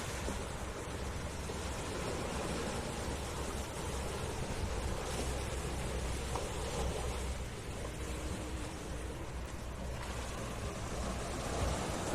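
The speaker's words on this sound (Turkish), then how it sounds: "Şöyle göstereyim size denizi." Sea waves wash continuously at Küçük Çaltıcak beach in Antalya, a steady broad surf roar mixed with wind buffeting the microphone, with no voices.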